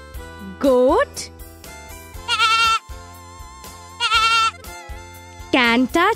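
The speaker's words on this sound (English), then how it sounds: "Goat" A goat bleats in several loud, wavering calls spaced a second or two apart, standing out clearly over a steady musical backing.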